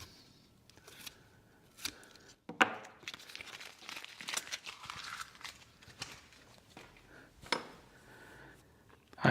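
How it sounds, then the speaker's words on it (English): Adhesive tape pulled and peeled off an open back mold, giving close crinkling, tearing and rustling noises in irregular bursts with a few sharp snaps, continuous through most of the span. "Let's pull the tape off."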